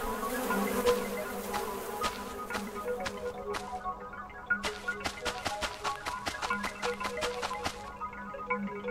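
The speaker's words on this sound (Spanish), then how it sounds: "Vienen las moscas." Flies buzz in the Starsand video game, a droning hum overlaid with a rapid series of sharp clicking ticks that come in bursts, fairly quiet and with no voices over it.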